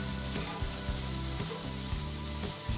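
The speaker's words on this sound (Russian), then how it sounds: "На раскаленную сковороду засыпаю грибы." Steady hot sizzling and crackling of mushrooms frying in a hot pan, continuous and close, with occasional soft stirring scrapes.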